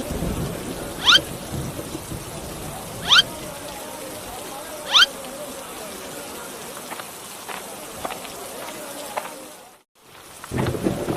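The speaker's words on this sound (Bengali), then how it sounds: "আজ কতদিন ধরে টানা বৃষ্টি নামছে" Steady rain falls in a cartoon scene, a continuous hiss with three sharp cracks spaced a couple of seconds apart, briefly cutting to silence near the end before resuming.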